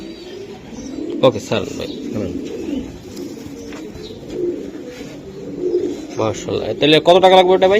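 Racing pigeons coo steadily at close range in a loft, with a voice talking over the birds and sharper chirps toward the end.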